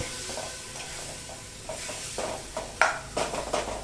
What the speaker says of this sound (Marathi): भाजी छान हलवून घ्यायची।